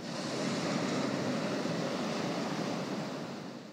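Rough sea during a Bay of Bengal depression, a dense continuous roar of waves and wind, loud and steady, easing slightly near the end, with no voices.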